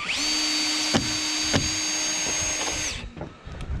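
A power drill whines steadily while backing screws out of wooden formwork boards, a close, continuous high-pitched run with a few knocks, then stops near the end, leaving faint rustling.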